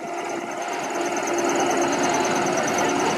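A replica Mark IV First World War tank at a battle reenactment, its engine running with a steady, rough, continuous drone and an even mechanical rattle throughout, close and fairly loud.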